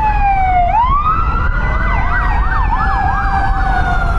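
A fire truck siren wails in Metro Manila traffic, starting with a falling tone and then settling into a rapid up-and-down yelp. It is loud and close over a steady rumble of road noise, with no talk.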